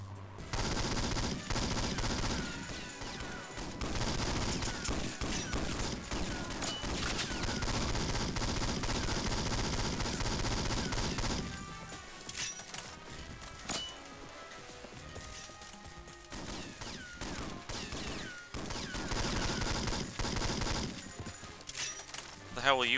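Rapid gunfire from the James Bond 007: Nightfire video game, with dense automatic bursts and clattering impacts running almost continuously, briefly thinning near the middle, as a game soundtrack with occasional voices.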